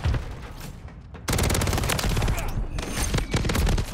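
Rapid automatic fire from a WSP Swarm SMG in Modern Warfare 3, a dense, loud stream of close gunshots starting after a brief quieter moment and continuing almost unbroken to the end.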